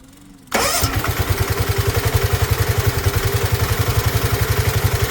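A Bonser auto truck fitted with a new engine cranks briefly and then catches, settling into a steady, loud, rhythmic chugging idle that continues to the end with no talking.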